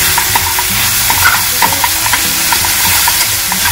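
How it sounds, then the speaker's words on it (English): Masala dosa potato filling with turmeric is stirred in a hot pan, a spoon scraping and clinking rhythmically over a steady loud sizzle of frying throughout. "And then add a bit of turmeric. Then mix it."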